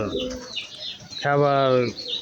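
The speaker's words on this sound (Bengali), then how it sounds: "ওই যে ওখানে একটি কবুতর" A pigeon near a row of cages gives one clear, close coo in a smooth tonal run, following softer background sounds.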